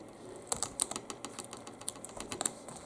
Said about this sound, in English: First of all, you lift off the tape